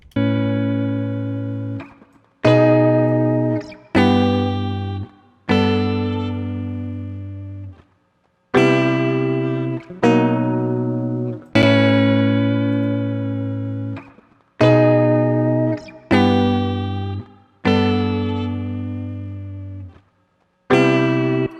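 Sustained lo-fi guitar chords play in short phrases separated by brief gaps, their pitch wavering and warbling like worn, stretched tape.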